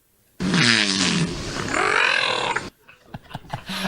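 A whale makes a loud, drawn-out groaning, roar-like call with wavering tones, imitating human speech in a two-part utterance, then trails off into softer clicks and scattered knocks.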